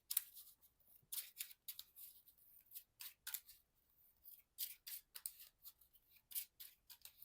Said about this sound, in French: Donc je remélange le tout.